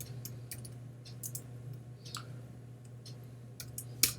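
Keystrokes on a computer keyboard, a scattered run of quiet, irregular clicks over a low steady hum, with a sharper tap near the end.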